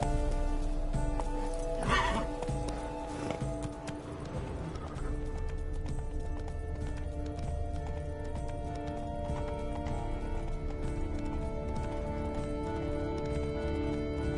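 Horse gallops with rhythmic clip-clop hooves and a loud whinny early on in The Witcher 3, riding along a road through the game world, steady and close throughout.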